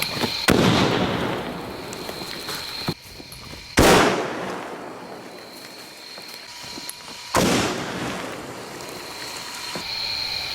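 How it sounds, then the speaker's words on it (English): Crimped metal pipe packed with a charge and set off by current from hundreds of car batteries wired together, producing three loud outdoor blasts, each with a sharp crack and a long decaying rumble, spaced a few seconds apart. "I'm going to hit the camera and detonate it"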